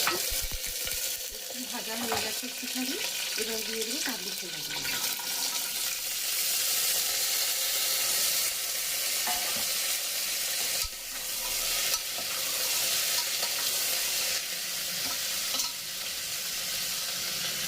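Chickpeas and potatoes fry in a pan with a loud, continuous hiss of hot oil, broken by scraping stirs and occasional splashing water, with no voices over the cooking.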